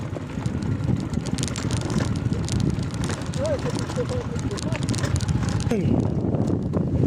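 Steady strong cold wind roaring and buffeting across a farm for the whole clip, loud and continuous, with faint distant bird calls partway through.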